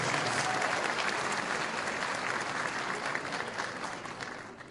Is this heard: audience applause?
yes